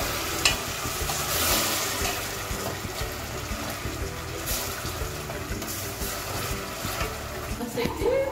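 Water poured into a pan of melted sugar for a condensed-milk pudding's caramel sauce, a hissing, bubbling sizzle with stirring that continues for several seconds, with a voice talking at times.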